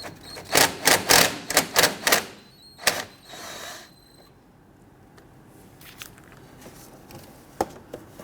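A ratchet with a 10mm socket and extension works a bolt loose on a 2011-2015 Kia Sorento 2.4L, giving a quick run of sharp, close clicks, then a few scattered fainter ticks as the bolt frees.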